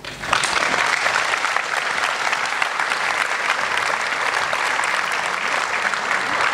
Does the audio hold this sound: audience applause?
yes